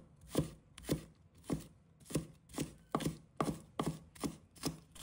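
A knife chops scallion whites into small pieces on a cutting board, nine or ten crisp, evenly spaced strikes, close and clear with no talk.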